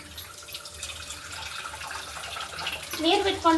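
Cold tap water runs steadily over boiled noodles held in a strainer for rinsing, a moderate splashing wash that builds louder near the end, with a voice talking over it.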